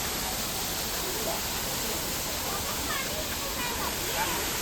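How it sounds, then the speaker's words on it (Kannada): Waterfall in Meghalaya roaring as a steady, dense wash of broadband rushing water, constant and unbroken throughout, with faint voices mixed into the noise. "ಇದು ಒಂದು ಫಾಲ್ಸ್."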